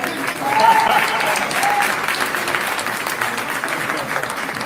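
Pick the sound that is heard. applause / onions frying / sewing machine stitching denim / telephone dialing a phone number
applause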